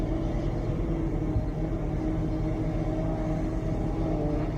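A steady, low engine rumble fills the inside of a police squad car, droning evenly and continuously throughout with no talk heard.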